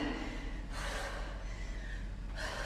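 Heavy, rhythmic breathing during push-ups in a boxing conditioning workout, with airy gasping exhales close to the mic repeating about every second and a half over steady background noise.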